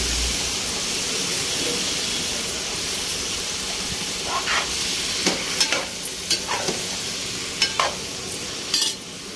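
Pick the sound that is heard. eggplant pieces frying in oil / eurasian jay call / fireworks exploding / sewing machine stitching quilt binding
eggplant pieces frying in oil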